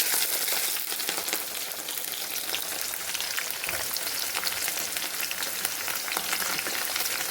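Urad dal and fenugreek seeds frying in hot oil for upma, a steady dense crackling sizzle that carries evenly the whole time, close and unbroken, with no voices over it.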